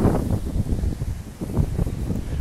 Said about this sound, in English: I'm sorry, it's a little bit windy.